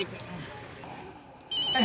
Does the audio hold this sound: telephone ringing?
yes